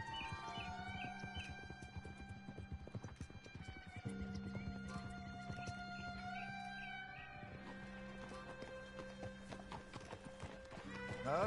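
Steady clip-clop of a horse trotting in Red Dead Redemption 2, with occasional whinnies over game music, fairly quiet throughout.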